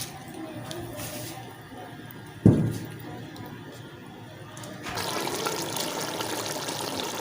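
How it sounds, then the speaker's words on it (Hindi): Rice poured into a pot of boiling water for Hyderabadi kachay gosht biryani, heard as a sudden splash followed by a steady bubbling rush of water that grows louder near the end. "पानी हमारा बॉयल हो गया, अभी चावल डाल देते हैं।"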